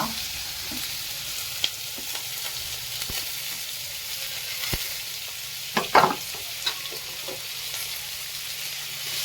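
Onion, garlic and ginger sauté in hot oil for palak paneer, a continuous soft sizzle with occasional spoon scrapes and a brief cluster of clinks midway.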